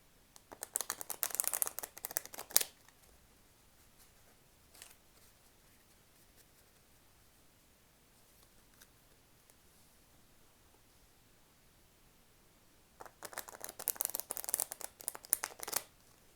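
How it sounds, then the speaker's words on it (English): Tarot cards are shuffled in two quick bursts of riffling and shuffling, separated by a long, nearly silent pause. "I'll do a few shuffles and meditate on the images of the cards now"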